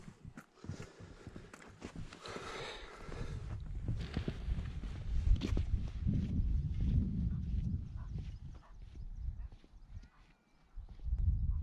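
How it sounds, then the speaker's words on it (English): Horse hooves clip-clop at a steady walking pace on Formby Beach over a broad, rumbling outdoor background, moderately close, with no talking. "Now look, horse riding over there."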